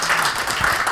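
Brief burst of audience applause at a Democratic Party election committee meeting in Busan as a committee member is welcomed, a steady crowd clapping with no voices.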